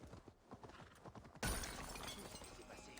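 Horse hooves clip-clop in Assassin's Creed Valhalla, a quiet, steady rhythm of hoofbeats that is suddenly overtaken by a louder burst of noise which then holds.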